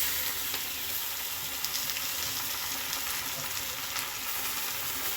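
Honagone soppu greens fry in a pan for a village-style palya, a steady dense sizzle with faint stirring scrapes throughout, close and continuous, with no voices.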